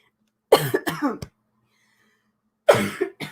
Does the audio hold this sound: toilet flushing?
no